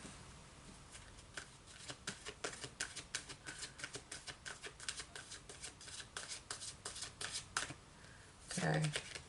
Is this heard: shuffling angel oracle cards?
yes